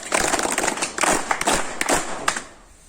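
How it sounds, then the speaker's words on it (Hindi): Audience clapping for a trainer at a pig-farming business seminar, a dense burst of many hands applauding together that tapers off near the end. "एक बार जोरदार तालियां सर के लिए।"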